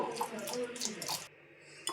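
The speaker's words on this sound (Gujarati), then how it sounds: "આપણે થોડું થોડું પાણી નાખતા જાવું અને હલાવતા જાવું." Gram flour batter, seasoned with salt, asafoetida and carom seeds, is stirred with water in a bowl, making quick scraping and clinking strokes of a spoon against the bowl, close up and fairly quiet.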